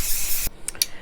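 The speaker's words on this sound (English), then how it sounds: "I'm gonna do a little pre-spraying." Hair spray hissing from an aerosol can before curling, one long steady burst of about half a second followed by two short, fainter puffs, close and with no talking.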